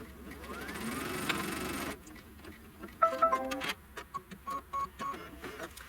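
An embroidery machine stitches the trim line on a Kimberbell mistletoe quilt block. A steady mechanical whir runs for about two seconds, then gives way to quicker, uneven ticking and clacking bursts close by.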